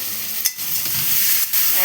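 Taro pieces fry with spices in a pan as a spatula stirs through them, a dense close sizzle punctuated by a couple of scraping turns and a brief clack, no voices.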